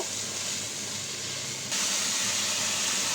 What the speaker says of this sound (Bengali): এখন চাল ডালটাকে আমি একটু ভাজা ভাজা করে নিব